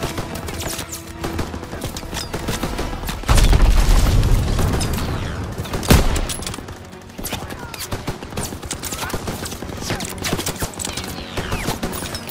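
Heavy artillery shelling pounds a beach in a Call of Duty WWII battle, with loud deep booming blasts and a rolling rumble mixed with bursts of machine-gun and rifle fire.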